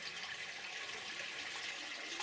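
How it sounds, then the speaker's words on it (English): Water flows and trickles inside a flooded mine, a faint, steady, hissing wash of running water heard continuously from some distance, with no voices. "And you can hear the water."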